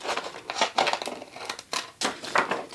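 Scissors snip through excess heat resistant tape while trimming a seam on a tumbler being prepared for a heat press, a series of close, crisp cutting and rustling strokes with no one talking.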